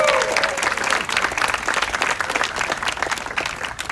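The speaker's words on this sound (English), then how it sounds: "a big round of applause" Crowd applauding outdoors at the Key West Burning of the Hurricane Flag ceremony, a dense, steady wash of clapping from many people, close and loud, with some voices mixed in.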